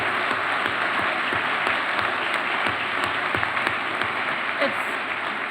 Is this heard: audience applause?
yes